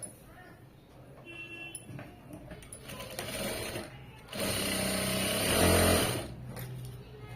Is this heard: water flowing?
no